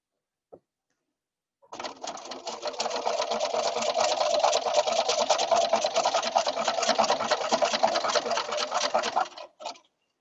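A sewing machine stitches nine-patch quilt blocks, running steadily and fairly close for about eight seconds after a faint click, with no talking.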